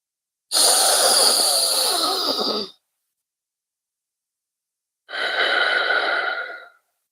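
Deep diaphragmatic breathing: one long, loud, close breath of about two seconds, a pause, then a second breath of about a second and a half, with an airy, slightly wheezy tone.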